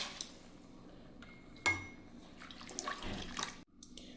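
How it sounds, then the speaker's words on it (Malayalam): Water runs and splashes into a pan of fish curry masala paste with a few light metallic clinks, steady and close, ending with a clatter. "ആവശ്യത്തിന് വെള്ളം ഒഴിച്ചു കൊടുക്കാം"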